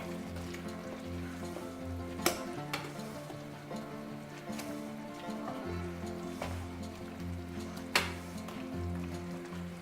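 Frozen beef burgers simmer and sizzle in a pan of gravy for Salisbury steak, a steady close crackle with occasional sharper clinks of a utensil against the pan, no talking.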